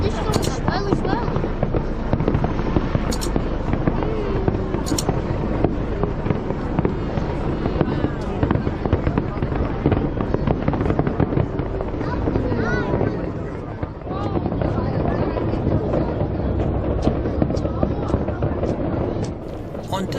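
New Year fireworks burst over Brisbane in a rapid string of loud booms and crackles from a moderate distance, with a crowd of people talking and exclaiming throughout.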